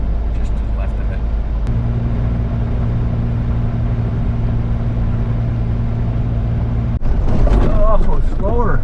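An off-road vehicle climbs a slanted sandstone formation in New Mexico, its engine a steady low drone throughout, rising and roughening near the end as it works harder up the slope, with talk over the top.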